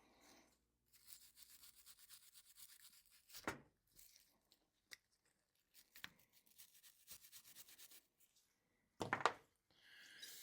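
Bursts of brisk wire-brush scrubbing against a metal gasket surface on a Toro push mower carburetor, rapid back-and-forth strokes with short pauses, close up and fairly quiet.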